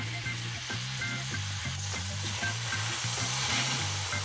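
Honey and soy sauce sizzle and spit in a frying pan over lowered heat, a steady, moderately loud crackling hiss with a faint rhythmic scraping of stirring underneath.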